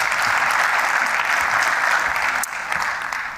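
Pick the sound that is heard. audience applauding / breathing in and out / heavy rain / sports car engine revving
audience applauding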